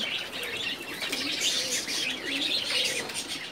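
Pigeons in a loft of high-flying birds, with green-necked pigeons among them, give soft overlapping coos and chirps against steady flock noise and occasional wing flutters, close and continuous.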